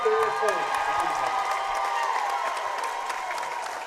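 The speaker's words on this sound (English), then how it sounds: "the crowd giving a standing ovation to Kaylin Bear Paw" A crowd at a girls' high school basketball tournament gives a standing ovation, with sustained clapping and cheering from the stands that slowly tapers off while an announcer speaks over it.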